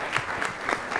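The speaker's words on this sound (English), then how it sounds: "Let's give him a round of applause" Audience applause at a civic engagement professional development session, a brief burst of clapping from the room with no talk over it.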